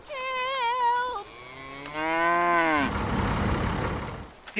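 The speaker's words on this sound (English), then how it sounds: "The cow is giving birth right now." Cow giving birth lets out two long, wavering moos, loud and near, followed by rustling noise, no talking.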